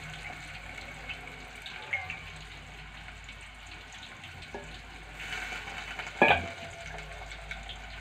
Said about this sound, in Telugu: కొంచెం వాష్ చేసుకొని వేసుకోవాలి కరివేపాకు